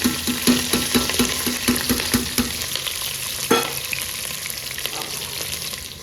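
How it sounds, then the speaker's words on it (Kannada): Onions and green chillies frying in a pan with pulao ingredients, with a steady sizzle and a quick run of rhythmic stirring scrapes, then a single louder clank and a softer sizzle with no talk. "ಅದ್ರ ಜೊತೆಗೆ ಈರುಳ್ಳಿ ಮತ್ತು ಮೆಣಸಿನ್ಕಾಯಿ ಹಾಕ್ಕೊಳ್ತಾ ಇದ್ದೀನಿ"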